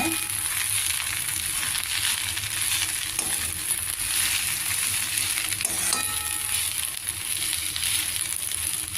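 Gongura leaves fry in oil over a low flame, giving a steady, even sizzle with faint crackling throughout, plus an occasional light stir against the pan.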